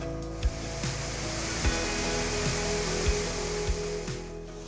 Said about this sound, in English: There's a lot of water coming down the East Fork.